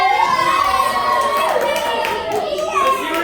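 Children in a comedy camp showcase audience cheering and shouting together, a loud rising and falling chorus of young voices with some clapping, sustained for a few seconds.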